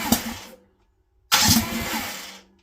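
A small kart engine fitted with a 24mm bored three-circuit racing carburetor cranks in two short pulls with a pause between, loud and close, sputtering without catching.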